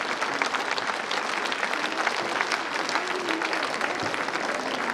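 Schoolchildren in an audience clap together at a school annual day, a loud, dense burst of clapping sustained at an even level throughout.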